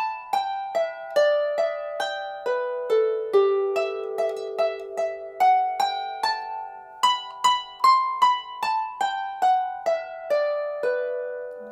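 Harp plucks out two phrases of a folk tune, bright ringing notes in a steady melodic line with some sustained overlap, played alone and clear throughout.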